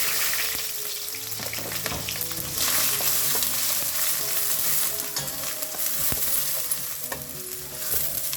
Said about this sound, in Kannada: ಈರುಳ್ಳಿ ಸಣ್ಣದಾಗಿ ಹೆಚ್ಚಿರೋದು ಈರುಳ್ಳಿನ ಹಾಕೊಳ್ಳಿ